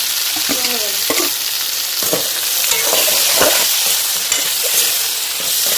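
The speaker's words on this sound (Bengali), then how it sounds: "দিয়ে কাঁচা লঙ্কা টমেটো ভালো করে কষিয়ে" Tomato, green chili, turmeric and salt fry in a pan with a loud, steady hiss and crackle, with soft stirring scrapes now and then, close up and with no talking.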